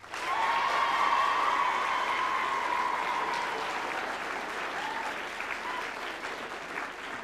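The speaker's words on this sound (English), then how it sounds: "Big round of applause" A studio audience at a televised school sports quiz show breaks into loud, sustained applause that swells quickly, then slowly tapers while continuing to the end, with faint crowd noise mixed in.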